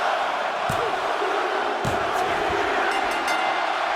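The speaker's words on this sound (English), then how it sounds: "The crowd is erupting in cheers as Ciampa stands triumphant" A wrestling arena crowd in the WWE 2K24 video game roars in a steady, dense wash of cheering, with a few sharp thumps cutting through.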